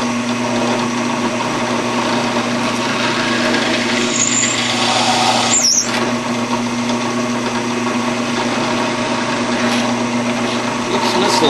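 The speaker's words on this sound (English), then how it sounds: "I'm going to raise my drill press up a little bit here." Continuous loud machine drone of a drill press running steadily throughout, with a brief higher whine midway as the bit bites.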